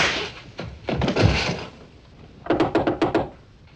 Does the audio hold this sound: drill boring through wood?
no